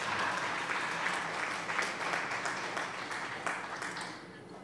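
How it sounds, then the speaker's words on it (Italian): A steady burst of clapping applause fills the clip, moderately distant and fairly quiet, tapering slightly toward the end. "cioè applauso sarebbe"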